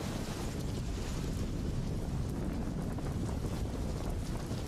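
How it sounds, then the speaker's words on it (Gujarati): Heavy wind during a rainstorm in Dwarka roars steadily and fairly faintly, with rushing gusts buffeting the microphone and no voices. "દ્વારકામાં સતત 2 દિવસથી ભારે પવન સાથે વરસાદ"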